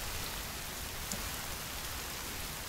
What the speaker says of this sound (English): Is it seriously raining?